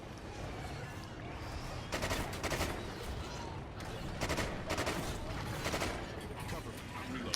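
Repeated pistol shots from a fully upgraded pistol in the video game Extinction, coming in short bursts of several quick cracks over steady in-game background noise.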